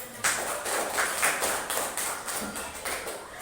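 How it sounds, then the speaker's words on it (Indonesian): Small classroom group claps sparsely, a handful of distinct, fairly quiet claps in an uneven rhythm rather than a full ovation. "Tepuk tangan."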